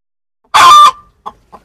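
A desi hen on an Indian poultry farm gives one loud, raspy cluck up close, followed by two short, softer clucks trailing off.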